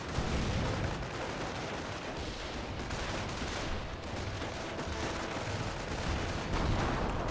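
Recoilless rifle fire in the World War II strategy game Company of Heroes, heard amid dense, continuous battle noise with repeated booming shots and gunfire layered throughout, loud and with no voices.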